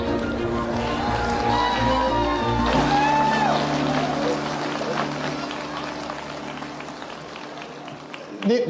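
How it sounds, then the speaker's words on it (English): A conference audience at Linux World applauds, and the clapping builds into a dense wash under a voice while music fades out. "These guys have to clap."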